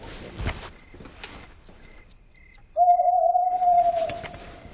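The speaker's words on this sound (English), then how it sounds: "Sometimes they stay awake all night, making funny hooting noises just like that." After a stretch of faint background noise, an owl gives one long, even hoot at night, clear and fairly close, with no one speaking.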